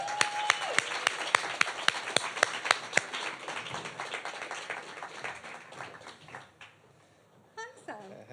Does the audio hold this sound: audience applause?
yes